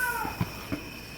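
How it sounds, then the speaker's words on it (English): A cat meows on a dining table in a home decorated for fall, two short soft calls spaced apart and close by, with no talking. "usually we don't have a cat on our table"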